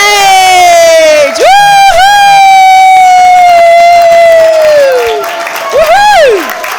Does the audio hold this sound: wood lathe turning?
no